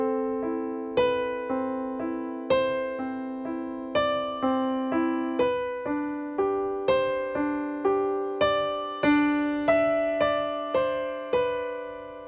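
Solo piano playing the right-hand part of a piece, a steady flowing pattern of repeated single notes at an even pulse, close and moderately soft, without talk.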